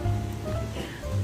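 Rain falls on a cold street during a vacation, a soft, steady hiss heard faintly over a low background rumble.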